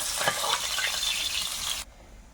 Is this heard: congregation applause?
no